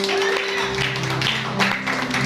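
A church congregation applauds, a steady, dense patter of many hands set against a low sustained musical tone, with the clapping swelling briefly near the end.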